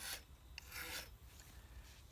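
A Harbor Freight multi-tool's file rasps across an old machete edge in a few short, gritty strokes with brief pauses between them, close and faint.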